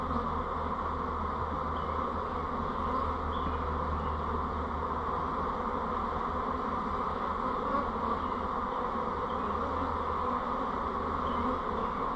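Honeybees shaken from brood frames to make nucs give a dense, steady buzz, loud and close, holding for the whole stretch with no voices.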